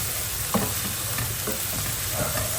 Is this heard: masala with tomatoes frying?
yes